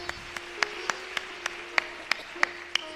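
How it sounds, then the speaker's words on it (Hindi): A few scattered hand claps from an audience at a girls' skill camp gathering, about ten sharp separate claps spread over three seconds, fairly faint with a steady low hum beneath. "तो एक बार अपने लिए ताली बजाइए"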